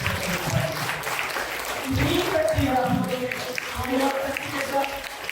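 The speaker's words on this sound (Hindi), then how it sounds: "यीशु की महिमा के लिए जोर से तालियां बजाएं" A church congregation at a Kripa Satsang prayer meeting at St. Sebastian's Church, Tahirpur, claps loudly for Jesus in dense, sustained applause that fills the room, with voices mixed in throughout.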